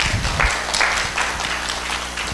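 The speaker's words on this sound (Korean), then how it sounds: "박수 한번." A church audience applauding: a short burst of many hands clapping together, fairly close and loud, with no speech.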